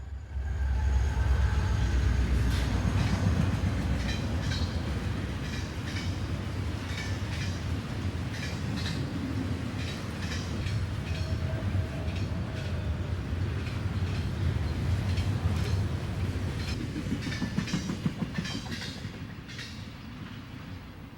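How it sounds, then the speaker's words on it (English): A CSX freight train headed by SD40-2 locomotive 8217 rolls past at a cutoff in 1992, a deep continuous engine drone under repeated wheel clacks and rattling cars, loud and close throughout. "our last train at this picturesque location is headed by SD 40-2, number"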